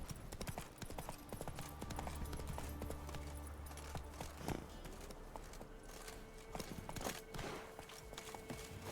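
Roach, Geralt's horse in The Witcher 3 video game, trots along with rhythmic, close hoof clip-clops over soft game ambience and a low background tone.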